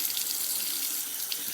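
A kitchen sink faucet runs with a steady, close hiss of water spilling into the basin, continuous and even for the whole stretch with no voices.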